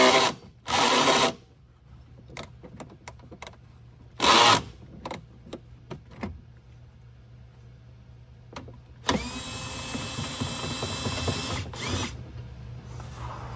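A 10 millimeter bolt loosened on a Toyota Prius during a 12-volt battery swap: bursts of whirring power tool or ratchet, rapid clicks, then a longer steady buzzing run, close and fairly loud.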